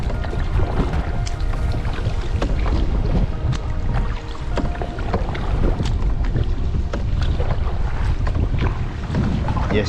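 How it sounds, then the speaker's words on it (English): A canoe is paddled into a headwind. Steady wind buffeting and water noise fill the whole stretch, with faint splashes from the paddle strokes and no talking. "So I've got a bit of paddling to do against the wind."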